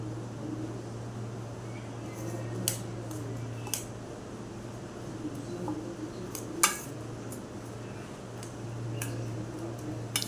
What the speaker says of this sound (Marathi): असं छानपैकी मिक्स करून घ्यायचं चम्मचने.